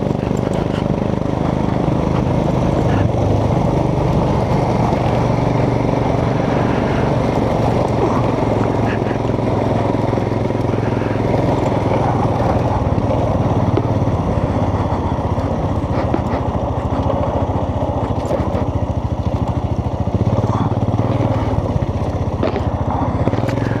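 A Royal Enfield Himalayan 411cc motorcycle rides off-road over mixed mud and tarmac, its engine a loud, constant close-up drone with rumbling and wind-like roar and no pauses throughout.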